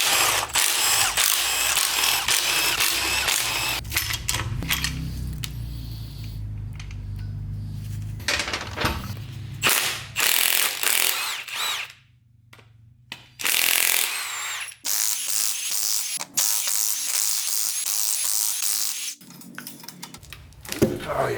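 A wrench or power tool spins out the valve cover girdle bolts on a Cummins 5.9 common-rail engine, giving repeated bursts of loud whirring and ratcheting broken by short pauses, with talk in between.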